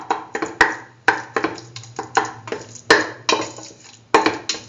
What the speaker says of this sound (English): mash the potatoes and the chayotes so as to make a nice, thoroughly mashed mixture